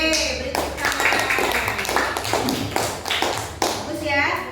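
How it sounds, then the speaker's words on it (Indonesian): Students in a classroom clap after a group presentation, a lively burst of many hands with chatter and voices underneath. "Oke, beri tepuk tangan."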